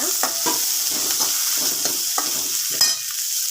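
Ingredients for a shark fish curry sauté in a pan, giving a continuous close sizzle broken by frequent scraping and clattering stirs of a spoon.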